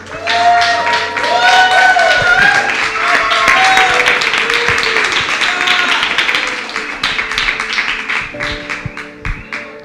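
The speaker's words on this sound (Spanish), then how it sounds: "vamos a darle un fuerte aplauso al Señor" A church congregation at a Sunday meeting applauds loudly, sustained dense clapping with shouts and cheers on top, easing slightly toward the end.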